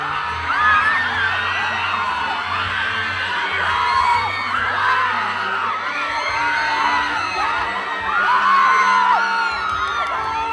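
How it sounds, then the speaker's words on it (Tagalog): A festival crowd at the Kadayawan Festival cheers as actor David Licauco comes on stage, with high excited screams, whoops and shouting swelling in waves, fairly close and loud throughout. "Pagtungtong pa lang ni David on stage, dili na mapugna ng excitement sa crowd."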